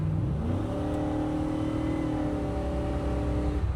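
A 1977 Chevrolet C10 pickup truck with an LS3 engine accelerates hard, its loud, steady engine roar rising in pitch as revs climb, heard from close by with no talking.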